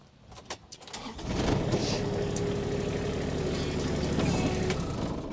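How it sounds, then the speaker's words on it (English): A 2021 Kubota RTV-X1100C utility vehicle engine cranks briefly, catches, and settles into a steady, close diesel idle that runs on for several seconds. "Let me fire it up and open up the bed."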